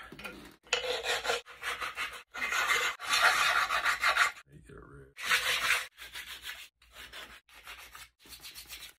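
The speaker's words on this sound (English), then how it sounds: "Now we gotta sand it." Abrasive rubbing on a caribou antler comb, heard as repeated rasping strokes in bursts of a second or so, separated by short pauses, moderately loud and close.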